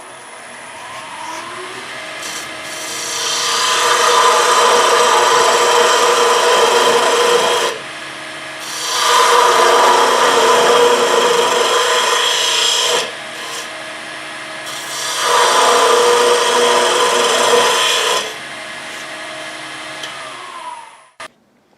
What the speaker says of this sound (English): to do that, you would use your bowl gouge